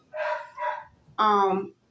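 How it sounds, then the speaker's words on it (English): A dog gives two quick barks followed by a longer, higher yelping bark, close by and fairly loud. "Excuse the barking, the meowing,"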